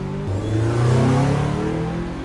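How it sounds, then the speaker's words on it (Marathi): A car pulls away hard with a rising engine roar that swells and then holds. It is a short, close, produced sound effect with no voices. "इकडे शिवाने रागात जी गाडी काढली ती सरळ शहराबाहेर आणून थांबवली"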